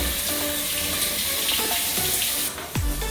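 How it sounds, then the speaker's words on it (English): Waterfall shower head in a Shangri-La hotel room running steadily, a close, splashing hiss of water that shifts near the end as the flow changes, with no talking. "you get the waterfall shower head, which is pretty cool"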